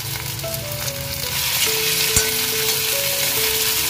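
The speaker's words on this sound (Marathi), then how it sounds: "कांदा लसूण मस्तपैकी परतवून झालेला आहे। याच्यामध्ये आता आपण टोमॅटो घालून घेतोय।" Tomatoes fry in a pan with onion and garlic, a continuous close sizzle and crackle that swells slightly as it goes, with a single sharp clink of a utensil partway through and no talk.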